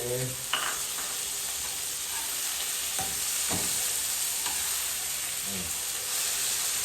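Garlic and tomatoes sizzle in a frying pan with a steady, hissing crackle throughout, while a few soft clinks and stirring scrapes sound over the frying.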